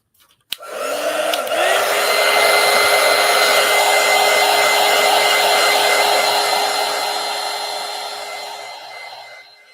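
A heat dryer blows steadily on a collage disk for about nine seconds, starting with a sharp click and then holding a loud, even whine and whoosh that eases off slightly toward the end.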